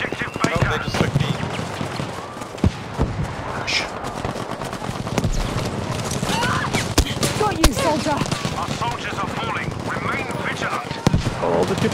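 Rapid bursts of gunfire and explosions from a Battlefield V Breakthrough match on the Fjell 652 map, loud and continuous, with sharp cracks layered over dense battle noise and players talking throughout.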